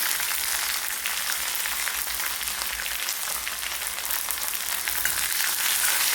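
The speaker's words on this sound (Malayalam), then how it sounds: "ഇനി ഇതിലേക്ക് കറിവേപ്പില ചെറുതായിട്ടൊന്ന് വറുത്തെടുക്കാം" Steady, dense sizzling of curry leaves frying in hot oil, a continuous crackling hiss close by with no voices.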